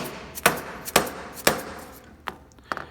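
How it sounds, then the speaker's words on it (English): A metal workpiece is tapped down into a machining vise: three evenly spaced sharp knocks, then a few lighter taps, close and clear in a quiet shop. "I'm gonna tap it down."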